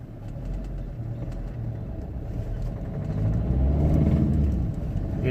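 Vauxhall Corsa E 1.3 CDTI diesel engine with a reduced-power fault, accelerating. A steady low rumble swells in the second half, with no talk over it.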